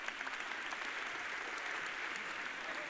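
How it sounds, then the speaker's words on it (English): An audience claps in a steady, even patter of applause heard from a slight distance, faint overall and lasting the whole stretch without voices. "We give her the round of applause"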